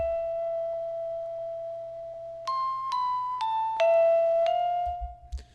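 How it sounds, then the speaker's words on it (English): Mellotron one-shot sample plays a slow melody of sustained tones, a long held note followed by several stepped notes, steady and fairly loud against a low background hum. "So the first one was a mellotron"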